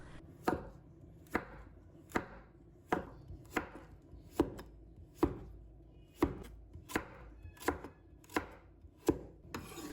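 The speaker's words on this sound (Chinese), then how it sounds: "然后切成薄一点的片，尽量切得薄一点" A knife cuts a pumpkin into thin slices on a board, making about a dozen sharp, evenly spaced knocks roughly a second apart. The cuts are close and quiet, with no talking.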